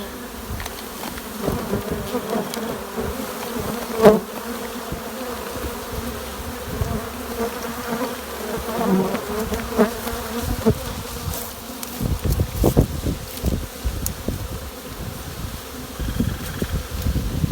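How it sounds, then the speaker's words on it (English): A honeybee swarm drones in a dense, continuous buzz close by as the bees are brushed into a box from a tree, with occasional rustles and knocks of brushing and branches. "you can start to brush the bees in"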